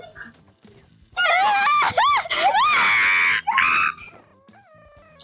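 A person screams loudly in long, wavering, high-pitched bursts, close to the microphone, with short breaks between them, while a Polish-speaking group laughs and plays Ultimate Chicken Horse.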